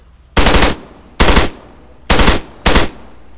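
Four loud, close bursts of automatic weapon fire in a video game battle, each lasting about a third of a second with short pauses between, no talk over them.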